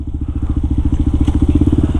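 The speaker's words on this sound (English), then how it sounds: "So I fixed all that stuff, and now the bike's running great." A motorcycle engine runs after a valve repair, idling close and loud with a rapid, even chugging pulse that holds steady throughout, with no voices.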